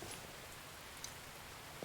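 Rain falling in the survival video game The Infected, a steady soft hiss of drops with a couple of faint clicks, no talk.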